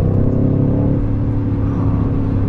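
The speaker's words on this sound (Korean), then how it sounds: "8기통의 엔진 사운드" A BMW M550i's V8 accelerates, giving a loud, steady, deep engine drone with a harmonic growl, boosted by a sound generator, and holding throughout.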